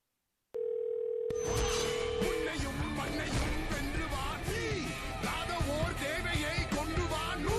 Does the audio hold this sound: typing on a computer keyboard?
no